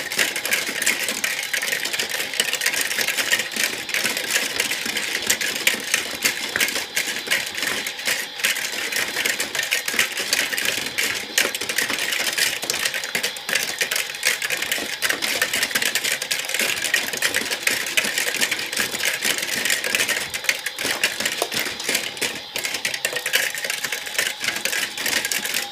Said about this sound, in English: And turn the washing machine on too.